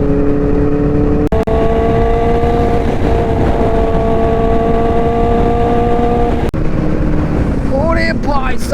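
A Kawasaki ZX-10R motorcycle cruises on a highway, its engine a loud constant drone buffeted by wind, with two brief dropouts and the revs climbing sharply near the end.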